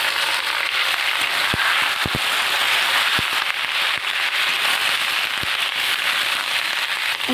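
Steady, dense sizzling of small fish frying in a pan with oil, nigella seeds, onion and chili, with scattered sharp pops and crackles, close and continuous.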